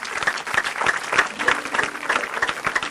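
A congregation claps during a church service, with steady, fairly regular rhythmic clapping filling the room and no clear cheering voices.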